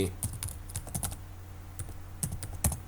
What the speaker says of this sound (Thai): พิมพ์รหัสผ่านยืนยันรหัสผ่านอีกที